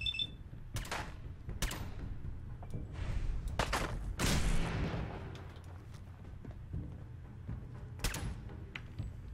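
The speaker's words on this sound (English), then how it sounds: "Opening fire." Gunfire in Fallout 4, a combat sequence of several separate sharp shots and bursts spread across the stretch, fairly quiet and distant-sounding, with a louder rumbling blast near the middle and no talk.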